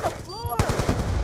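Rapid bursts of video game gunfire crackle over a shooter match's background noise, with a brief electronic whine before the volley and a voice murmuring faintly underneath.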